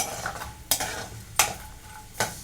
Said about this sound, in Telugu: పిస్తా పప్పు కూడా ఫ్రై అయిపోయింది